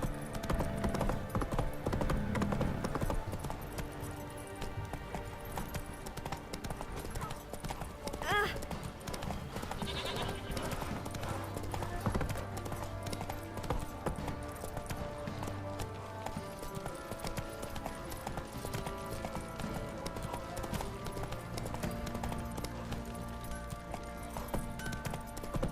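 Horse hooves galloping in The Witcher 3: Wild Hunt, a steady rhythmic clip-clop mixed with game music and ambience, with a voice speaking briefly near the start.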